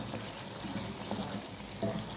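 Ghee, spices and yogurt sizzle softly in a pot while being browned for chana gosht, a faint, steady crackle with a few light stirring clicks and no voices.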